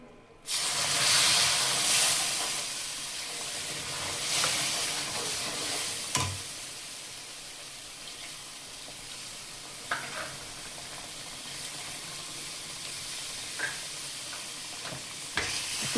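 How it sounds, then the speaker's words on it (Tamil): Hot water poured into melted sugar and ghee in a pan for kada prasad sets off a loud hissing sizzle that gradually settles into a steady simmer, with a few sharp clinks and scrapes of stirring. "ஸோ இந்த சுகர் கொஞ்சம் நல்லா கரைஞ்சதுக்கப்புறம் நம்ம இதுக்குள்ள ஹாட் வாட்டர் விட போகிறோம்."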